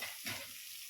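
Potatoes frying in fish oil in a pan give a brief, steady sizzle with a soft stir near the start, close and alone.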